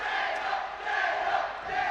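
A large crowd cheers at a Robocon robot contest, a sustained roar of many voices shouting and whooping, dense and continuous with slight swells, heard from within the arena.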